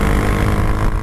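A Grom motorcycle fitted with a 17T sprocket pulls hard in second gear, its engine droning loudly and continuously with a rough, steady rumble close to the rider.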